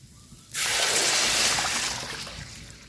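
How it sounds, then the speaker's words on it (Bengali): Water is poured into rice frying in a pan, bursting into a loud hiss and sputtering sizzle that tapers off slowly. "তো একটু পানি দিয়ে দিব।"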